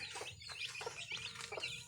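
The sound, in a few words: chickens clucking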